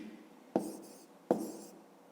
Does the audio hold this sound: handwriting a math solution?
yes